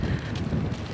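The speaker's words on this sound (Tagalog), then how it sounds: "Ang lakas ng hangin." Steady, roaring wind buffets the microphone throughout, a dense low rumble with no pauses, loud and close.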